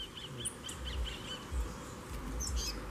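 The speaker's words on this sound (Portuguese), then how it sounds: "O coleiro tá lá atrás." Double-collared seedeaters call near a cage outdoors, several short high chirps and trills scattered through the clip, faint against a steady low rumble of background noise.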